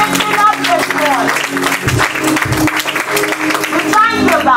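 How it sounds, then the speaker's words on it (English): A church congregation claps hands in praise during a Sunday worship service honoring children, a dense, steady wash of applause running throughout with voices and music mixed in. "Give your hands up a clap of praise"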